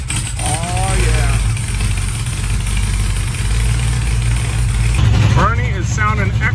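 Someone's car engine idles at a close, steady low rumble that holds throughout, with people talking and calling out over it at the start and end.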